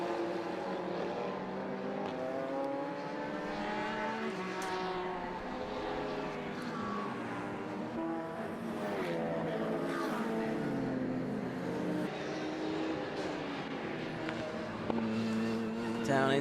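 Race cars lapping Croft circuit during a club endurance race, a continuous engine roar with shifting harmonic tones as cars pass, under steady commentary.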